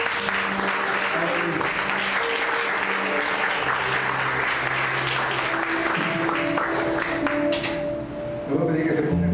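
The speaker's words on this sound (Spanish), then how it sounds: "darle una ofrenda de palmas al Señor" Church congregation applauding as an offering to God, a loud, sustained wash of clapping from a large crowd with voices underneath, easing briefly near the end before swelling again.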